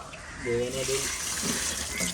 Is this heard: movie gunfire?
no